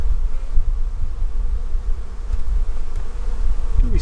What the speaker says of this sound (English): A lot of bees too.